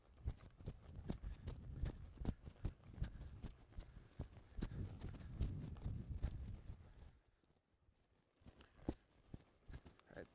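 A young filly's hooves trotting on a loose rein, a steady run of rhythmic beats that stops briefly near the end and then resumes more sparsely.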